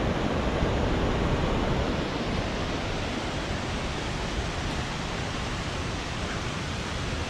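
A waterfall on Cripple Creek by the Middle Fork Snoqualmie River, a loud, dense, unbroken roar of rushing water close at hand, steady throughout with no voices.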